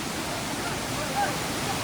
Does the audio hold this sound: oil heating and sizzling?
no